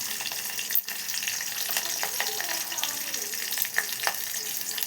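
Curry leaves, turmeric, cumin and mustard seeds frying in oil, giving a steady close sizzle with faint crackles and pops and a brief dip near the start.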